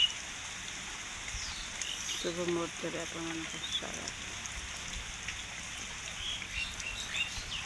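Steady morning rain falls outdoors with a soft even patter, while faint bird chirps sound in the background and a person speaks briefly partway through.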